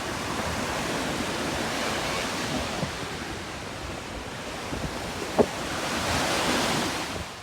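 Ocean surf rolls in at a beach as a steady broad wash of waves, fairly loud and continuous with a swell near the end and one brief sharp knock, no talking.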